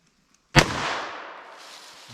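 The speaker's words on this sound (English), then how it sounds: "let's see what we can get here with our 38 special" A single sharp, loud report from a .38 Special revolver fired into a ballistic test block, followed by a ringing, reverberant tail that fades over about a second and a half.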